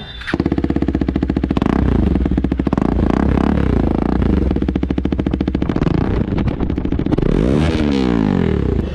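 A KTM Duke 250 BS6 fitted with an Akrapovic exhaust in place of the stock one fires up and settles into a loud, steady, throbbing idle with rapid pulses, heard close up for the whole stretch.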